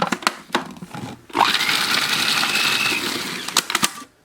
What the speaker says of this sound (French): Et là, on va mixer le tout.